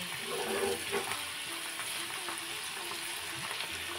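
Vegetables shallow-frying with a little salt in a pan for spicy egg pasta, giving a continuous soft sizzle at even, modest loudness with faint stirring scrapes and no talking.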